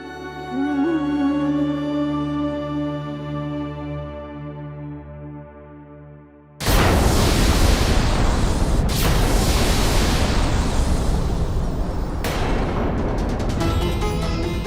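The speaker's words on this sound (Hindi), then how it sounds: "ऐसा लग रहा है जैसे कोई भयानक विस्फोट हुआ हो।" A sustained musical drone in a mythological TV drama is suddenly cut by a massive roaring explosion blast that continues as loud, rumbling noise with further booming surges.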